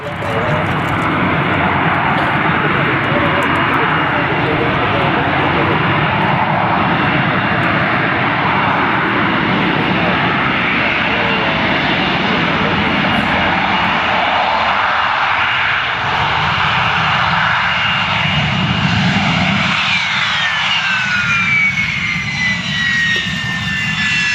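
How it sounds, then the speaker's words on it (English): A Sea Harrier jet operated by Nalls Aviation roars at an airshow in Geneseo, its engine a loud, continuous, broadband whine and rumble that holds steady throughout, with a faint rising tonal whistle near the end. "from Nalls Aviation, Mr. Art Nalls and his team with the C Harrier"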